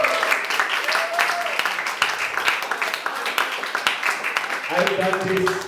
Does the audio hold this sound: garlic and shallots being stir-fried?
no